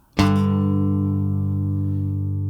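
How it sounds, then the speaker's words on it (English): Two guitar notes struck together ring out as one bright chord, sustaining and slowly fading with no other sound. "if we play the 2 notes together"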